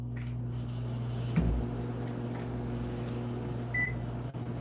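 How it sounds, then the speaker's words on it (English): A microwave oven runs while heating coffee, giving a steady close hum with a short clunk near the middle and a brief high beep toward the end. "Hot coffee a-brewing in the microwave."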